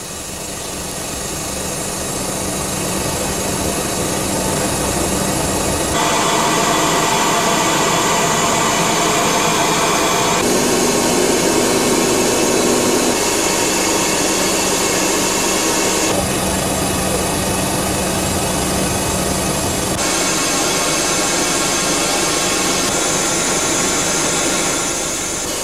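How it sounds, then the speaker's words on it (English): Four jet engines of an Antonov An-124 heavy cargo aircraft spool up for takeoff, a loud, steady roar and whine that builds and shifts in stages over about twenty-five seconds, with no talk. "pilot Konstantin pushes the throttles for the four engines slowly forward"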